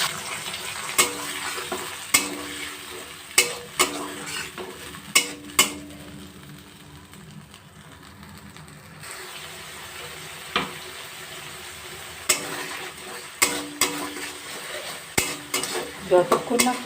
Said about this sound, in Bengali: যতক্ষণ না পর্যন্ত মশলার থেকে তেল বেরোচ্ছে ততক্ষণ পর্যন্ত এইভাবে মশলাটা কষতে থাকবে